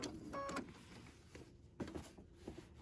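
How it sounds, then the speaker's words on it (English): A sewing machine stitching a quarter-inch seam on a fabric gift bag, heard as short, quiet whirring motor bursts with brief pauses between them. "I'm going to sew to about 1/4 inch."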